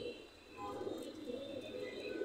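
Traditional high-flying pigeons in a loft coo softly and repeatedly, with low, throaty murmurs that overlap close by and continue throughout.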